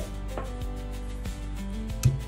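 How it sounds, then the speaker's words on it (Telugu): Garlic cloves are pounded coarsely in a stone mortar for mango pachadi, giving a few sparse, dull thuds at uneven intervals, fairly faint over a steady low background hum. "కచ్చా పచ్చాగా దంచుకోవాలి"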